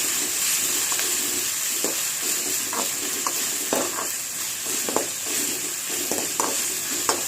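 Ginger garlic paste sautéing in a pan for crab gravy, a continuous hiss of frying broken by regular scraping strokes of a spatula stirring the paste, close and steady.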